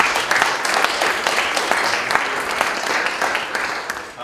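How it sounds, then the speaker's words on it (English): Steady applause from a crowd, dense clapping filling the room at an even level throughout. "I'd like to give a round of applause for Spades."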